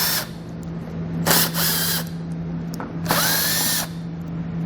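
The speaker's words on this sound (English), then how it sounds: "So grab my socket and pull those out." A socket power tool spins out 7mm bumper bolts on a 2014 Ford, two separate whirring bursts of about a second each with a ratcheting edge, close and loud over a steady background hum.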